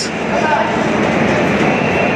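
Loud, continuous rumble of an Amrit Bharat Express train departing Sir M. Visvesvaraya Terminal, Bengaluru, rolling along the tracks, close by and steady throughout.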